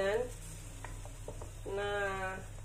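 Squid in black ink frying in a pan gives a soft, steady sizzle with a few light stirring scrapes, close but fairly quiet, while a voice briefly talks over it at the start and end.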